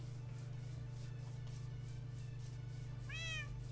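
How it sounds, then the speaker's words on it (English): A single short meow from a cat, faint and near the end, over a steady electrical hum and low background noise. "That was a cat."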